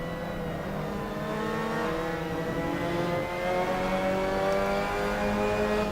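Mazda MX5 Cup race car in Assetto Corsa at the Red Bull Ring, its engine revving loud and close with a rising, buzzy pitch climbing through the gears, held steady without a break.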